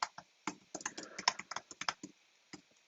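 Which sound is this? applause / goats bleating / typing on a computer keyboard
typing on a computer keyboard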